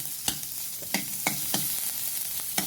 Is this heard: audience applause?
no